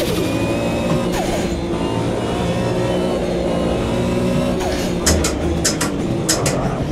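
Turbocharged Porsche race car engine in a sim racing game, a sustained loud drone with whistling turbo whine and a few sharp shift or blow-off chirps near the end.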